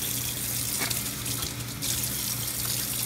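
Cold tap water gushes steadily into a sink while stinging nettles are rinsed, a continuous broad hiss with faint splashing changes.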